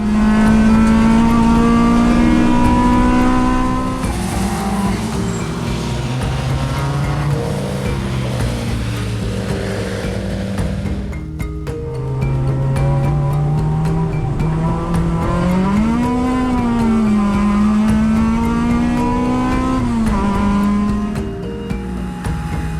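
A K-swapped Honda Civic lapping a race track with no air filter, its engine roaring loud and close, revs climbing and falling through gear changes in one continuous stretch with no talking.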